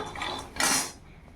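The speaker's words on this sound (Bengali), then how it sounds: "এবার নাড়িয়ে দেবো।" A utensil stirs fried peanuts in a cooking pan, giving a short scraping, rattling burst that swells and fades within about half a second, close up with no talk.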